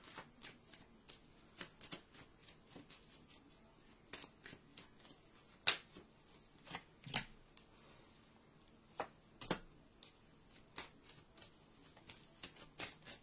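Tarot cards are shuffled by hand in repeated quick riffles and slaps, irregular bursts of crisp papery rustle close to the listener, with quiet pauses between them.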